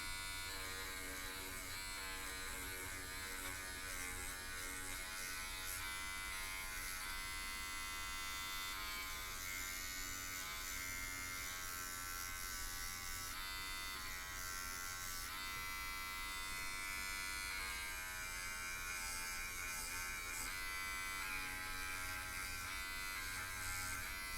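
A Mr. Hobby GT07 G-Tool cordless polisher runs on a scale model car with a steady, even electric buzzing hum that holds continuously and fairly faint throughout, with no talking.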